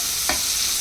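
A pan of onions, cumin and green chilies sizzling steadily in oil for a veg curry, with a single brief scrape or stir partway through and nobody talking.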